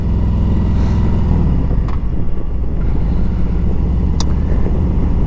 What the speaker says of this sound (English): the fourth reason why I chose my 2017 Road King Special is the Milwaukee 8 motor.